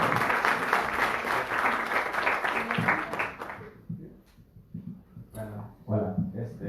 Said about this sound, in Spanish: Le damos un aplauso al